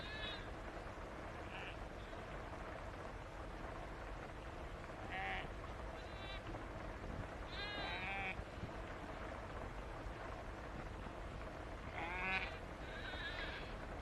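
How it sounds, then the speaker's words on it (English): Sheep and very young lambs bleat intermittently at a distance, a few scattered calls over a quiet outdoor background. "The lambs are very young and like to keep close to their mothers."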